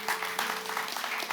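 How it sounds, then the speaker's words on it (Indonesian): Brief burst of congregation applause in a church, scattered hands clapping at moderate loudness over a low steady hum, lasting only a moment. "Oh, ada tepuk tangan?"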